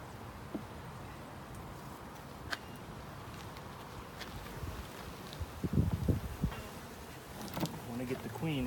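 Honey bees from a 3-pound package buzz steadily close by in a dense, continuous drone during hive installation, with light handling noises and a soft voice murmuring underneath.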